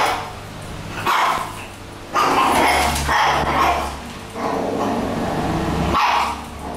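A small dog yaps in several short bursts, close by, with brief gaps between barks and faint background noise.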